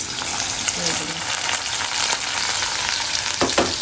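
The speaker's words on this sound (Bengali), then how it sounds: "এখন রান্না বসাবো প্রথমে পেঁয়াজের বেরেস্তা করবো" Onions frying in a pan for birista, a dense, loud, continuous sizzle close up with a couple of brief stirring scrapes near the end.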